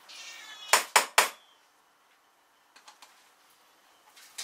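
Three loud, close meows from cats in quick succession, followed by softer rustling and faint ticking sounds.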